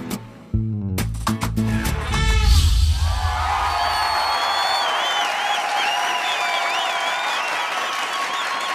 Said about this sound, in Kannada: ನಿಮ್ಮೆಲ್ಲರ ಜೋರಾದ ಚಪ್ಪಾಳೆಯೊಂದಿಗೆ ಸ್ವಾಗತಿಸಿ ಮಜಾ ಭಾರತ ಖ್ಯಾತಿಯ ನಮ್ಮೆಲ್ಲ ಹಾಸ್ಯ